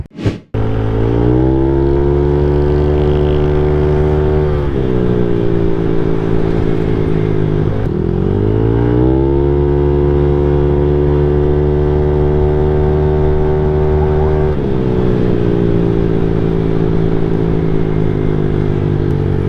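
A Honda Click i125 scooter engine runs steadily close up with a rising whine, dropping and climbing again several times as it pulls away and shifts through its revs, with no talking over it.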